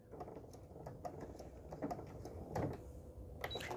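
A standard household sewing machine tacks stitches at the end of an embroidery line, making quick, faint mechanical ticking and whirring in short clustered bursts, close but quiet.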